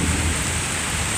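Heavy rain pours steadily around a house, a dense, loud, continuous wash with no break across the short stretch and no voices.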